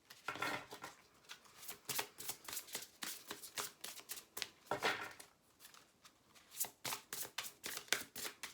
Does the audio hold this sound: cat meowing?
no